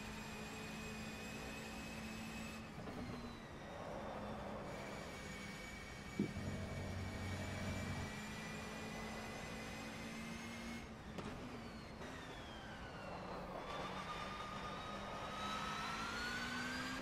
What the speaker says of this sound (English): all you're hearing is transmission whine. There's no engine noise at all